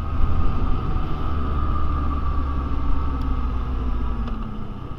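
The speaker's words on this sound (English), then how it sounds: "nice torquey three-cylinder engine." A Yamaha Tracer 9 motorcycle's three-cylinder engine drones steadily under way, a close, continuous rumble mixed with wind noise and no pauses.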